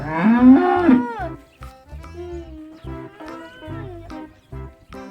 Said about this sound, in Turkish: Evet Batuhan ne diyor bize inekler?